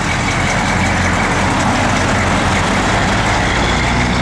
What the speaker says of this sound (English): Yeah, that's cool, old truck.